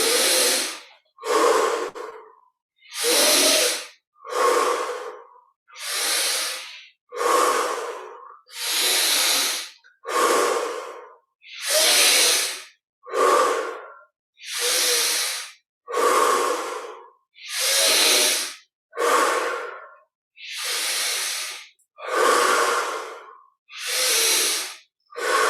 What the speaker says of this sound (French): 20 respirations profondes. Inspire par le nez, expire par la bouche.